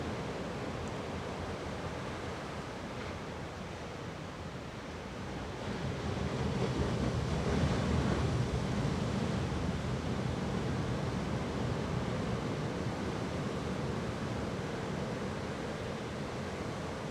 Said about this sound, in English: the wind was really blowing and the waves were really crashing